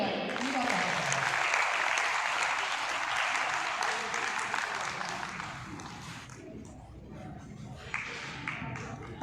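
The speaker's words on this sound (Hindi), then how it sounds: "इनके लिए ताली बजाएं" An audience at a Hindu Vahini event claps for the ladies' team, loud sustained applause that gradually thins and fades toward the end, with voices mixed in.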